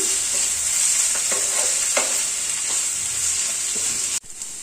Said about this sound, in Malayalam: മസാലപ്പൊടികളൊക്കെ ഒന്ന് മിക്സ് ചെയ്ത് കൊടുക്കാം.